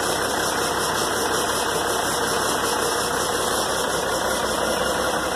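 An old diesel engine idles steadily after a cold start helped by a shot of starting fluid, a loud, close, continuous rumble with a faint knocking edge and no talking.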